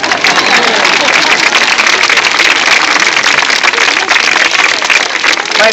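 Loud, steady clapping from a theatre audience during a puppet or animal show, dense and continuous throughout with a low murmur of the crowd beneath.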